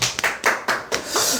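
A few sharp hand claps in a short irregular burst, close and fairly loud, made during an online sales-coaching class for telemarketing counsellors.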